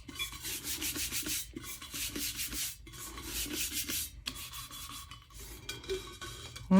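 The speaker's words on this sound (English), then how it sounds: "A little burnishing." A black opal color-shift mica twist tumbler is burnished by hand, with close, loud rhythmic rubbing strokes in bursts and brief pauses between them.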